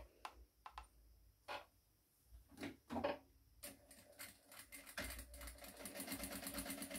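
Sewing machine stitching a fabric placemat, starting with a few short clicks and bursts, then settling into a fast, steady, close mechanical chatter of running stitches.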